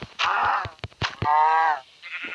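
A cow in a video game is struck and answers with a few loud, harmonic bleating moos in short bursts, one longer call in the middle, with no talking over them.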